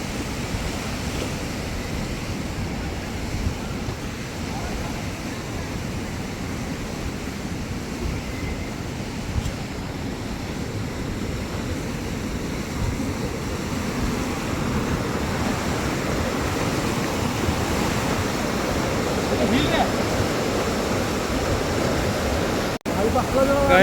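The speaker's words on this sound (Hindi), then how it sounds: "कितना तेज पानी जा रहा है।" Fast, rushing river water in the Neelum Valley of Pakistan, a steady loud broadband roar that continues without a break and swells slightly toward the end, with no voices over it.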